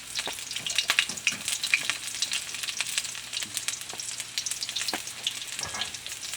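Sliced ginger sizzles and spits steadily in a pan for adobo sa gata with native chicken, with scattered sharp crackles and occasional utensil scrapes over a constant frying hiss.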